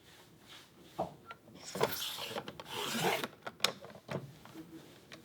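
Paper cut on a trimmer during a crafting session: soft, quiet scraping and rasping strokes in short bursts, with a few sharper clicks, close by and without talk.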